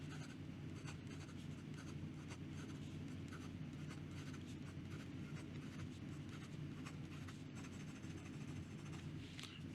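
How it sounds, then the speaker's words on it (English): Fast writing with a PenBBS 323 fountain pen fitted with a mini Fude nib, a steady soft scratching of nib on paper running throughout, close and quiet. "How about some fast writing here?"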